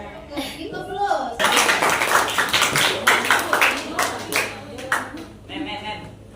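A classroom group claps together in a run of sharp, irregular hand claps lasting several seconds, with a voice speaking before and after the burst.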